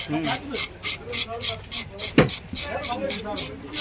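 A knife scraping and cutting through a firm fish, likely a silver cup fish, in a steady series of close rasping strokes, with one sharp louder chop partway through.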